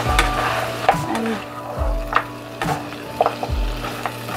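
Mutton curry with red chili powder stirred in a pan, where repeated scraping strokes and clinks sound close over a continuous sizzle and low rumble.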